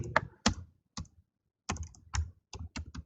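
Keys clack on a computer keyboard while typing in Notepad, close and crisp, in short irregular bursts separated by brief pauses.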